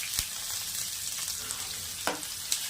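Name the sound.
onions frying in a pan until brown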